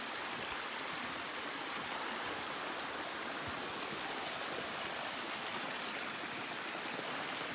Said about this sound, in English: So this is a waterfall, you guys. It's a natural waterfall.